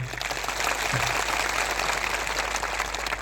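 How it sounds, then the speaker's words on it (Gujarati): A large crowd at an outdoor political rally to save the Aravalli hills breaks into loud, dense, sustained clapping that fills the whole moment. "સૌ માટે એકવાર જોરદાર આપણે તાળીઓ પાડી લઈએ"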